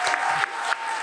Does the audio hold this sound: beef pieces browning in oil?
no